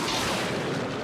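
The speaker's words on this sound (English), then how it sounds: "I sure do love fireworks" Fireworks exploding in a Lucky Luke cartoon, a dense, continuous blast of booming crackle that stays loud and sustained across the whole moment.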